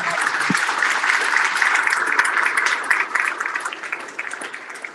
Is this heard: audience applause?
yes